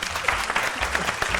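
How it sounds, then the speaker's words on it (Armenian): Audience applause at a televised Armenian game show, a steady wash of clapping from the crowd that carries evenly through the whole short moment. "Ծափահարություններ եմ լսում"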